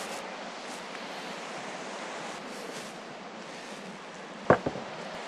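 Strong, powerful currents rush through a narrow river stream, giving a steady broadband roar of churning water with no speech, and a couple of brief splashy knocks near the end.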